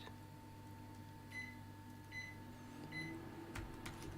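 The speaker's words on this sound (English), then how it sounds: "my working microwave is telling me that I can put the pizza in" A working microwave oven beeps three times in short, evenly spaced tones, fairly clear over a steady background hum in a room.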